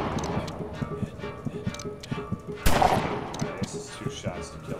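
Gunfire in a video game: a single loud, sharp shot stands out partway through over a busy bed of rhythmic clopping and game ambience, with a voice talking intermittently.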